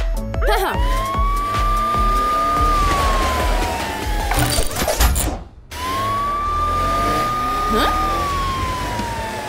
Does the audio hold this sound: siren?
yes